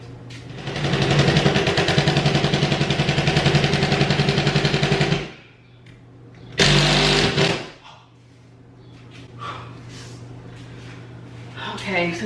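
An impact driver hammers a screw in, a loud rapid buzzing rattle running steadily for about five seconds, then a brief second burst, followed by a person talking.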